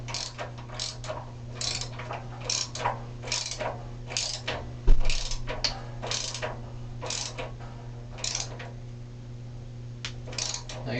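A hand ratchet tightens a new anode rod into a water heater, giving a long run of rapid, steady clicking bursts close by over a low steady hum, with one heavier knock partway through.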